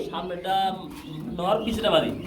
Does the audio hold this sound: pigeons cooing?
yes